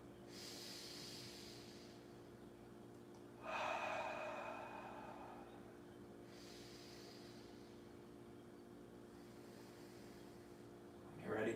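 Slow yoga breathing, with one long, close airy breath swelling after a quiet stretch and other soft breaths in between, against a low steady room hum.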